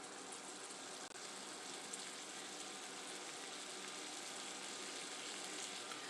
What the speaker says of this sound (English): you can see that they're just sizzling, cooking low and slow